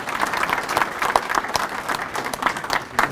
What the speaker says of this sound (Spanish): Para todos ellos, por favor, un aplauso, un agradecimiento.